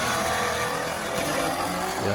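Challenger and Nissan R35 GT-R street cars drag racing at a drag strip, a loud sustained roar of engines accelerating from the distance, steady throughout.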